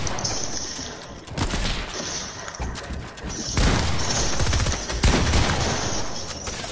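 Video game gunfire erupts in loud, dense bursts, with rapid automatic volleys and sharp cracks arriving in several waves close up and no voices over them.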